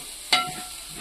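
Whole spices, cloves and fennel seeds, dropped into a hot pan for a Kerala-style chicken curry: one sudden close sizzling hiss that flares and quickly settles into a faint fry.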